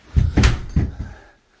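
A standard fireproof front door of a house being opened, a short burst of several close knocks and rattles from the latch and frame, fading out within about a second.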